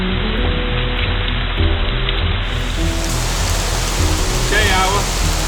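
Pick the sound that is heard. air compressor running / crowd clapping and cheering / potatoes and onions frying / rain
rain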